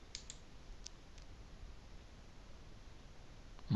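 A computer mouse is double-clicked on a Windows 7 PC, giving faint, sharp clicks near the start, a quick pair followed by a couple of single clicks, against a quiet hiss.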